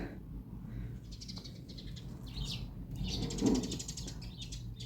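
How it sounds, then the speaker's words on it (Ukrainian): Sparrows chirp in short, high, scattered bursts, faint and somewhat distant over a low background hum outdoors. "Горобцям весело співають."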